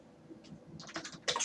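Keys on a computer keyboard clatter as commands are typed, starting with scattered soft taps and building into a quick, close burst of clicks.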